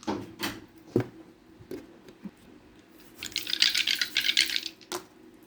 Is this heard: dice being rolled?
yes